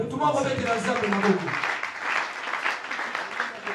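Audience at a deliverance prayer service breaking into sustained applause and cheering, a broad wash of clapping that builds over an opening voice and carries on steadily to the end.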